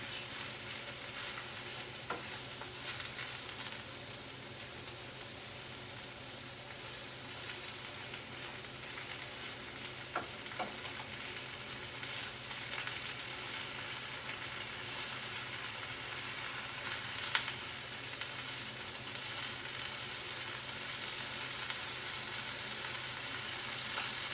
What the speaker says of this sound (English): So we'll saute this and wilt it for about 2 minutes.